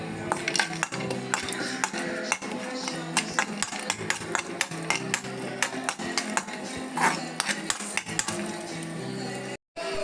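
Cashews and almonds roasting in ghee in an Indian kadai, with a steady run of close metallic clinks and scrapes from a spatula against the pan over a continuous background, briefly cutting out near the end.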